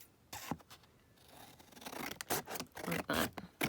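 Paper being cut down by hand while making a vintage collage picture frame: a few short snips, then a cluster of louder rasping cuts close by, with no talk.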